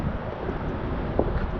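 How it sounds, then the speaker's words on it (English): Steady wind buffets the microphone outdoors by the water while bass fishing, a constant broadband rumble and hiss filling the whole clip with no talk. "even though the audio's gonna suck because of the dang ever constant wind tunnel"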